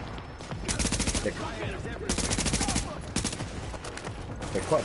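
Bursts of automatic gunfire from The Division on PS4, several rapid volleys in quick succession, loud and close, with game sounds around them.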